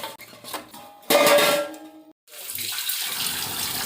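Duck meat, freshly cut, is rinsed in water in a home kitchen, giving a loud burst of splashing and running water with a metallic clang, then a short pause and softer sloshing as the washing continues.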